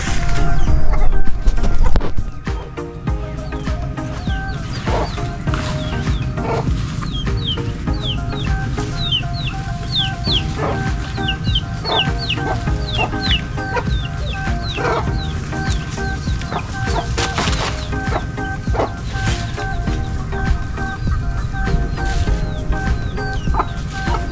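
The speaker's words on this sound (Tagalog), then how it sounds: "mga manok is sunod ng sunod po sa akin" Several chickens on a small farm cluck and chatter close by, with scattered sharper calls over a steady low background rumble.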